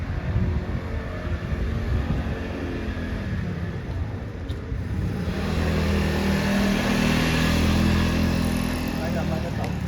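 A motor tricycle's engine idles roughly, then revs up louder and holds a heavier drone about two-thirds of the way through, close by, with voices apparently mixed in.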